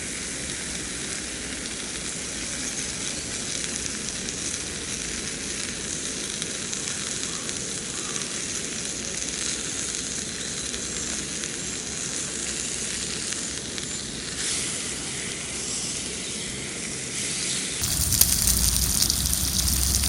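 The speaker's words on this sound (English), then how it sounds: "Right, we'll have the steak in now." A steak sizzles in a pan on a camp stove in an urban woodland: a continuous, even hiss and crackle runs for about twenty seconds, then jumps sharply louder near the end.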